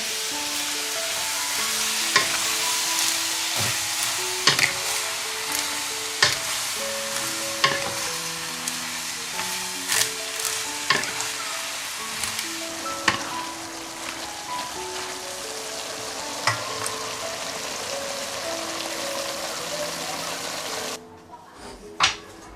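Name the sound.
vegetables being stir-fried and tossed in a pan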